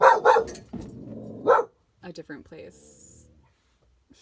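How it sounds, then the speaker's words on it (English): A dog barks a few times, loud and close, in quick sharp bursts, with a person speaking in between. "Sorry about the dog."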